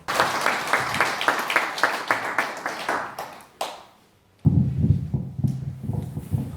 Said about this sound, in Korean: 감사 심연 감사님께 큰 박수 부탁드리겠습니다.